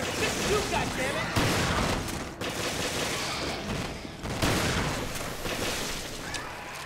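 Gunfire in the video game Resident Evil Revelations: dense, continuous bursts of shots and booming impacts fill the whole stretch, with a voice speaking over the chaotic firefight.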